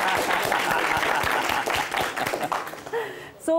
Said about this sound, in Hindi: अब तालियां बजेंगी।